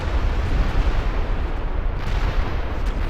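Skaven Rattling Guns open fire in Total War: Warhammer, a dense continuous rattle of rapid gunshots mixed with battle noise, loud and sustained without any break.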